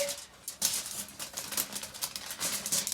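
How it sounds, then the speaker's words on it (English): Scissors cut through aluminum foil nearby, giving crinkly, scratchy rustles and snips in uneven bursts, fairly quiet and continuous. "I'm gonna cut the aluminum foil with the scissors."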